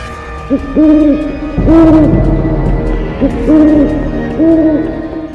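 An owl in India hoots loudly and close, giving several wavering, pitched calls in quick repeated bursts with short pauses between them and no voices.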